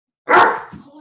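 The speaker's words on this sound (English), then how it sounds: "Next week I will lock the dogs in another room so they don't feel the need to be involved so much." A single loud, close bark from a dog inside a home room during an online meeting, short and sharp with a brief tail.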